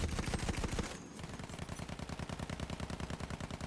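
Rapid machine-gun fire from an enemy bomber in Battlefield 1, loud dense rattling bursts, a brief pause, then a steady rhythmic stream of shots continuing to the end.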